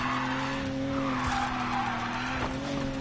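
A race car in a racing video game skids with a long, steady tire squeal over a constant engine drone, loud and close throughout.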